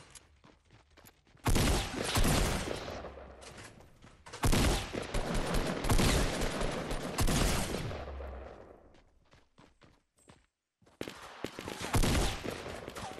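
Rapid bursts of automatic gunfire in a Fortnite match, loud and dense, in two long volleys with scattered single shots between and a final burst near the end.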